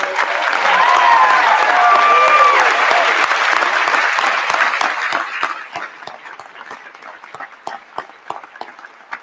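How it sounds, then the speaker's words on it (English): A large graduation crowd at Joplin High School applauds the retiring Mr. Boyd, loud and dense at first, then thinning into scattered individual claps; a voice is briefly audible in the early part. "please join me in a round of applause for Mr. Boyd"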